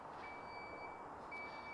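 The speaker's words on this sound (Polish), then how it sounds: "W tej wersji zamykamy też klapę bagażnika przyciskiem." A Jeep Avenger electric car's power tailgate closes at the push of a button, with a thin steady warning tone running over a low mechanical hum and broadband background noise.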